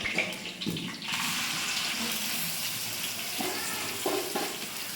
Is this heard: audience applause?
no